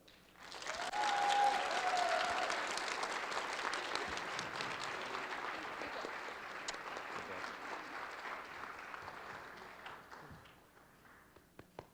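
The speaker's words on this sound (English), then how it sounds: "please join me once again in applauding the union of Stephanie and Jayson, Mr. and Mrs. Villamore." Wedding reception guests applauding the newlyweds Stephanie and Jayson, with a full room of clapping that swells quickly, holds steady, then gradually tapers off, moderately distant.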